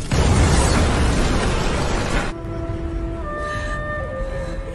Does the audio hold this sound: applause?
no